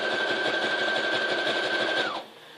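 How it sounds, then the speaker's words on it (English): A sewing machine stitching a zigzag for a flag: a fast, even mechanical whirring with a steady whine that runs for about two seconds, then winds down and stops. "I still ain't got used to sewing machine,"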